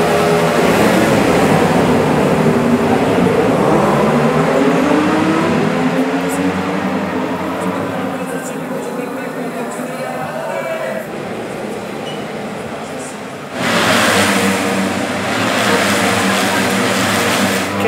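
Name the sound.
racing motorcycles with race exhaust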